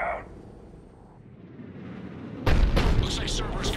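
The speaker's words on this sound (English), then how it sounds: "Looks like Cerberus got that cannon operational, Commander" A heavy cannon blast in Mass Effect 2 hits abruptly after a quiet stretch, loud booming with crackling debris and rumble that carries on to the end.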